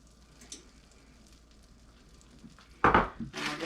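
A spoon stirs melted butter, peanut butter and marshmallows in a pot: quiet sticky movement at first, then two louder scraping, clattering bursts against the pot near the end.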